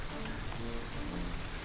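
Steady rain falling on open ground in the Serengeti, a dense, even hiss of drops with no pauses and no other clear sounds.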